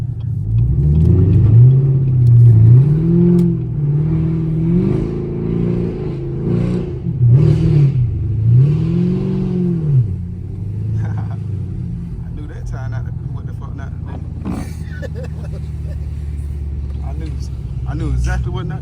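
A catless Camaro SS rumbles and revs while being driven in snow, with engine swells rising and falling repeatedly over the first half and then settling into a steady lower drone. A person talks over it throughout.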